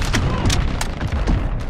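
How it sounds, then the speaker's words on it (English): Enemy precision airstrike explosions in Call of Duty: Modern Warfare Ground War, a rapid run of loud booming blasts with sharp cracks, dense and overlapping throughout. "Enemy precision airstrike."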